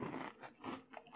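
French Toast Crunch cereal soaked in milk being chewed, a faint, close series of soft crunches in a brief rhythmic burst.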